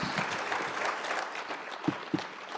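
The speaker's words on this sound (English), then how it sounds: "Ladies and gentlemen, a round of applause for Mike Veely and Chad Christensen." Audience applause for two legislative candidates at a primary debate, a continuous, moderately loud spread of clapping from the room with a couple of sharper close claps near the end.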